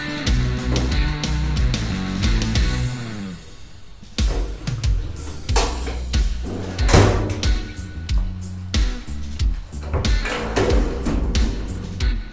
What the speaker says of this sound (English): hopefully just slide the drawer back into its place